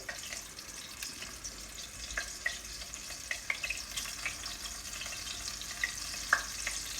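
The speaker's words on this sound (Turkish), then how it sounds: "Şimdi köfteleri bu şekilde ekliyorum. Hafif kızaracaklar" Meatballs for Cretan-style sour köfte frying in hot olive oil give a steady, close sizzle dotted with sharp crackles and pops throughout, with no talking.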